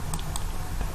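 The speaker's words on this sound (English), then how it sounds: "So I'm going to type this as my cloud name" Keystrokes on a computer keyboard, a few quick soft clicks in an irregular rhythm over a steady low background hum, close and fairly faint.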